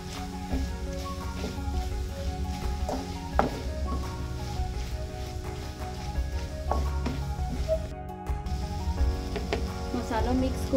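Chicken coated in masala, including a spoon of chicken masala, sizzles steadily in a pan for Goan-style chicken chilly while it is stirred, with occasional scraping and clinks over a continuous close frying hiss.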